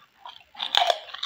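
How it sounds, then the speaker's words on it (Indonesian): Spicy kerupuk crackers crunched close up during eating, several sharp bites followed by crisp chewing crackles, no talking. "pedas kriuk-kriuknya rasa emang bener-bener enak kerupuk ini"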